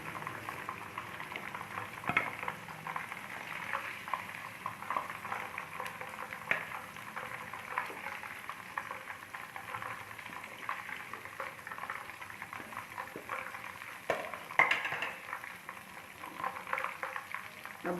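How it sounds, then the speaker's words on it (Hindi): Chicken pieces for Afghani karahi sizzle in a pan, a continuous crackling fry with scattered pops and spatters, moderately close and steady throughout with no talking. "अब हम इस साइड को अच्छी तरह से फ्राई कर लेंगे"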